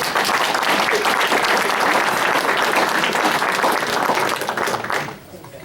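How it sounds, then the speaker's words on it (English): Audience at a speech contest applauds steadily in a full, dense round of clapping that holds for about five seconds, then cuts off abruptly into a quieter room. "I want to have you give a round of applause for Bruce, please."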